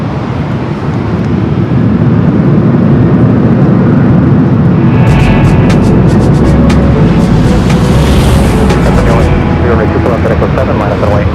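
A jet airliner takes off from runway 24 Left at Los Angeles International Airport, a loud, steady roar of engines swelling with a rising whine, while a voice talks over it.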